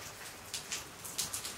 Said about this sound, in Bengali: আর এখন হচ্ছে বাইরে বৃষ্টি।